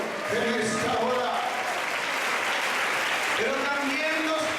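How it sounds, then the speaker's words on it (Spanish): A congregation at a communion service claps steadily while voices call out over the applause throughout. "Dale ese aplauso al Señor en esta hora."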